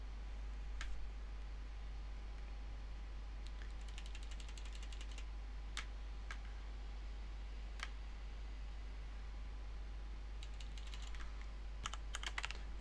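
A computer keyboard being typed on to log in: short bursts of light key clicks, some single taps and some quick runs, over a steady low electrical hum, with no talk.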